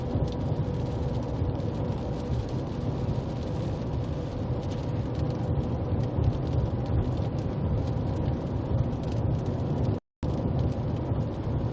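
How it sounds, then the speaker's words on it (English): Heavy rain pours down in a thunderstorm during a storm chase, a dense, steady roar heard from inside a vehicle, with low rumbling under it and a brief cutout near the end. "We're gonna have to go through quite the downpour up here"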